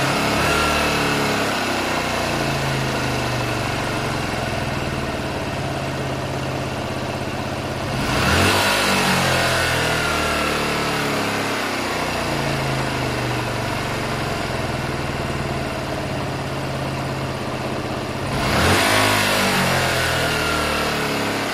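A Honda Varadero 125 motorcycle engine idles steadily after carburettor tuning and is blipped twice, about ten seconds apart. Each rev swells briefly and sinks back slowly to a steady idle, close up and with no voices.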